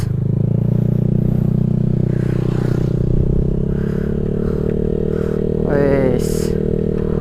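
A Honda Vario 150 scooter with a Black Devil aftermarket exhaust idles and revs close by. A steady, throaty low burble swells as the throttle opens, with a sharp rev near the end.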